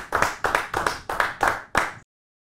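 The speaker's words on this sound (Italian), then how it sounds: "Applaudiamo, la stiamo applaudendo" Several crisp, evenly spaced hand claps, about six in rhythm, ring out close and clear before stopping, as applause greets the owner of Cokstile after the International Trot win.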